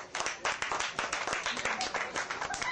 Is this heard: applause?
yes